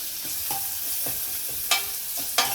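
Cut green chillies fry in a pan over a medium flame, giving a steady close sizzle with a few sharp crackles and pops.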